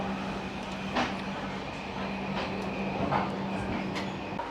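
The 12124 Deccan Queen Express runs from Pune to Mumbai with a steady rolling rumble and low hum inside the carriage, broken by a few faint knocks, and no talk.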